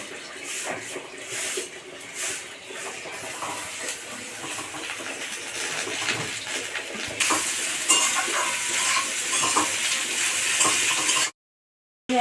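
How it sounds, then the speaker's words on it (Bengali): Potato, onion and green chili fry together in a pan of oil, making a steady, close hiss of sizzling with occasional stirring scrapes; it grows louder partway through and cuts to silence just before the end. "এবার আমি আলু পেঁয়াজ কাঁচা লঙ্কা সব দিয়ে একসঙ্গে ভেজে নেব"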